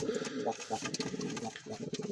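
Soft, low pigeon cooing rolls on continuously, close by, with faint rustling and brief higher chirps above it.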